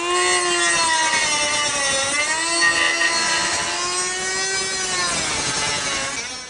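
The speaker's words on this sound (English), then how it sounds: "So I'm going to use this cordless Ingersoll Rand cutoff tool and get going." A cordless Ingersoll Rand cutoff tool cuts a rusted exhaust clamp on a 1997-2004 Ford F150/F250, a loud, steady high whine with wavering pitch, close and continuous, easing off at the very end.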